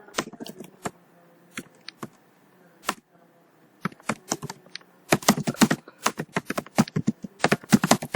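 Code is typed on a computer keyboard, with scattered single key clicks at first and then a fast, dense burst of crisp, close keystrokes.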